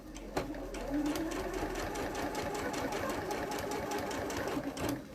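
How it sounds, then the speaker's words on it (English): A sewing machine runs steadily, stitching binding along a V neckline, close and fairly loud with a rapid even mechanical clatter throughout. "So I'm going to stitch straight down and stop where the fold of the binding going this way is."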